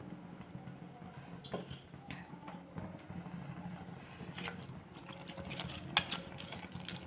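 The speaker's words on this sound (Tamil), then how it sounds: "இனி இதில் தேவையான தண்ணியை விட்டுடலாம்." Water is poured steadily into a pot of partly cooked rice for baby jackfruit biryani, a soft continuous splashing and rushing wash at moderate level with a few small clinks, and no talking.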